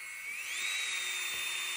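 Electric nail file (e-file) spinning at high speed, a thin, steady, high-pitched whine like a dental drill that rises in pitch as it speeds up, then holds; close and alone.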